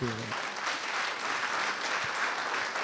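A congregation at a French-language Christian worship service claps and cheers in praise, a steady wash of dense applause that stays fairly loud throughout, with a brief voice at the very start.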